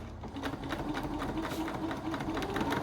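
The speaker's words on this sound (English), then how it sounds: "for my machine, if I rethread the bobbin, I need to run through some stitching first" A sewing machine runs a burst of stitching after its bobbin has been rethreaded, making a steady, fast mechanical whirr with rapid needle ticks, close and loud.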